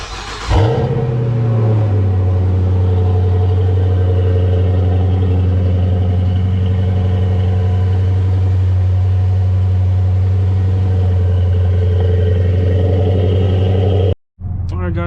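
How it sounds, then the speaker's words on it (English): A modified Dodge Charger R/T engine cold-starts with a short crank and a sharp bark, then settles into a loud, deep, steady idle rumble. The idle holds for about thirteen seconds before cutting off abruptly. "let's go ahead and get a cold start for you guys"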